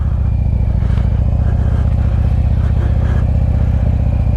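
A 2020 Harley-Davidson Road Glide Special with the 114 engine idles low in freezing, icy weather, a steady deep rumble with a loping pulse that holds constant and close throughout.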